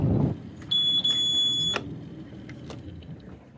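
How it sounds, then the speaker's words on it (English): The anchor alarm on the Anchor Pro app aboard a sailboat sounds a short high electronic beep tone, followed by a few faint clicks over a quiet background. "We also use the coordinates from our pin to set up the anchor alarm on Anchor Pro."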